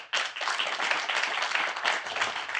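Dense, steady crowd applause fills a union-focused economic speech event. A continuous wash of many hands clapping stays loud and sustained throughout, with no clear speech over it.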